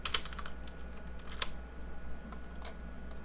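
Quiet, irregular keystrokes tap on a computer keyboard in a short burst of typing during a modded Minecraft session, with a faint steady hum behind.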